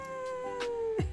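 A kitten or small cat gives a drawn-out, wavering meow indoors, fairly close and clear, with a few faint shorter calls before it and a sharp drop at the end.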